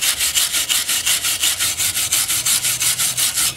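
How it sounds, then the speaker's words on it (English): Wire brush scrubbing a Dodge front brake caliper in steady, rapid back-and-forth strokes, a bright scratchy rasp repeating about five times a second, close and alone with no talk. "So I got just a wire brush."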